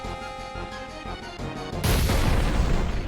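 Fire spell attack in Final Fantasy VII erupts as a sudden loud, roaring burst that swells into a sustained blaze of crackling noise, following a stretch of game music with rhythmic low thumps.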